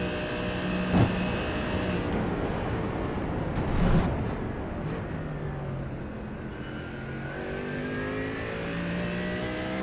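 A Mercedes AMG race car engine in the iRacing simulator at Sonoma revs and pulls under throttle uphill, a loud steady drone with rising and falling pitch and a couple of sharp bursts.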